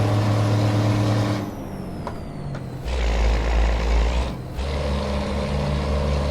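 A Mercedes Axor truck driven in a truck simulator hums with a steady low engine drone that drops, then swells again, with a hiss like an air brake between, all continuous and close.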